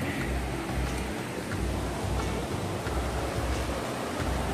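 Sea waves surging against a rocky cliff shoreline, a loud, continuous roar of surf with deep, rolling swells rising and falling close by.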